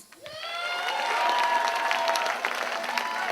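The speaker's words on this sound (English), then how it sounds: "Round of applause for Empress J one more time." An audience applauds a poet at a poetry event in the British Virgin Islands, clapping swelling quickly to a dense, sustained round with a few cheers mixed in.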